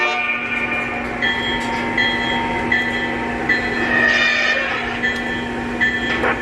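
A model train runs on a home layout, a continuous rolling rumble with steady tonal hum and occasional clicks from the track, close and fairly loud, with no talk.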